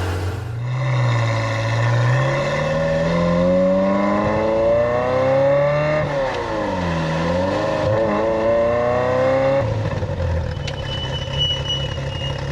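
A Ferrari F355 engine runs steadily on a road test, its loud, close drone rising and falling in pitch as the car accelerates and shifts.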